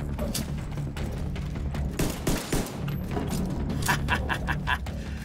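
Handgun fire in The Division 2, a quick run of sharp pops over dense, steady game background noise and ambience, moderately loud.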